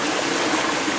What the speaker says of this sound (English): we moved to a different stream here this morning